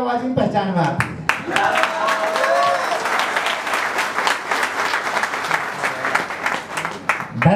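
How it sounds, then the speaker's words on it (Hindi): Audience clapping at a Nexmoney live speech event in Ahmedabad. A voice is heard briefly at the start, then steady applause from a seated crowd continues with some louder individual claps standing out. "मुझे केवल ताली वाली आवाज ही पहचान में आती है।"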